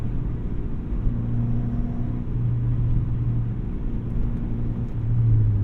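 A 1998 Honda Civic CX with a non-VTEC engine drives a winding road, its low engine drone and road rumble steady in the cabin, with small pitch shifts as it eases through bends.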